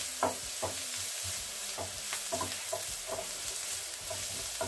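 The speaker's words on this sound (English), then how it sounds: "I'm going to add a bit of turmeric and I'll keep stirring." Onions with turmeric stirred in a frying pan: a steady soft sizzle with repeated scraping strokes of the spoon at an even rhythm, close and fairly quiet, no voices.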